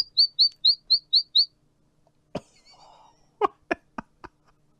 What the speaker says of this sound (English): I can hear the chirp of the bird outside